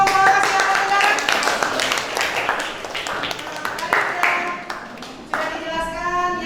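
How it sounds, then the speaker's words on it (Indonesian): A classroom of students claps for a student group, a burst of scattered clapping that rises, thins and picks up again, with voices speaking over it. "tepuk tangan untuk kelompok Asia Tenggara"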